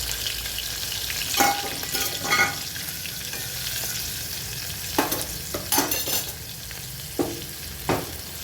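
Green chilies and turmeric fry in a pan with a steady sizzle, broken by several sharp bursts of crackling and stirring scrapes, with no one speaking.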